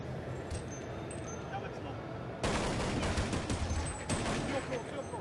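Rapid bursts of gunfire from the video game Counter-Strike 1.6 during a competitive match, a dense crackling volley that grows louder midway and continues steadily.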